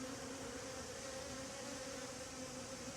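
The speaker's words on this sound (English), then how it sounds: "now you got a big wad of bees on this queen cage with mama in there" A big cluster of honeybees crowds a queen cage holding a mated queen, their steady buzzing hum filling the air continuously and evenly at close range, with no voices.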